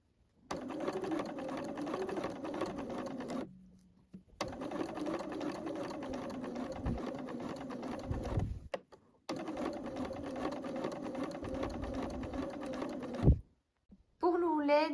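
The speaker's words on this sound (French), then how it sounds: "il n'y a plus qu'à piquer ici à 2 mm du bord pour fixer le biais" A sewing machine runs in three long, steady bursts of fast rhythmic whirring as it stitches armhole bias binding 2 mm from the edge on a top, with short pauses between runs and a brief voice at the end.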